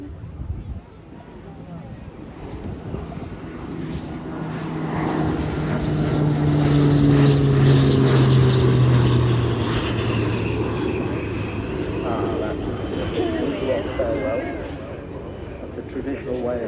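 An Irish Air Corps propeller plane drones past at an airshow in Portrush, its engine swelling to a loud peak midway and then easing off, with a voice talking over it.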